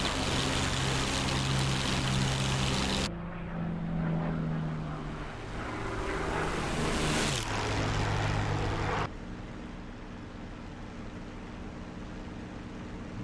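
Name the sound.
P-51 Mustang propeller aircraft engine in DCS World video game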